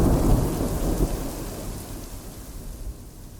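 A summer-camp thunderstorm in the Northwoods brings thunder that rumbles loudly at first and then fades, with steady rain falling throughout and no voices.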